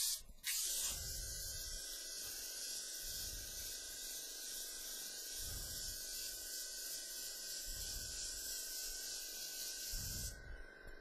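Light grey spray paint hisses out in a steady, soft stream, lightly oversprayed onto a dark grey textured skull, with low thumps repeating underneath.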